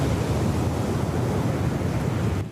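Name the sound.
large ocean waves and wind during typhoon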